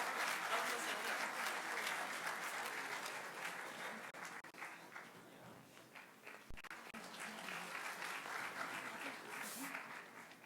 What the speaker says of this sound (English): Please give him a big, huge round of applause.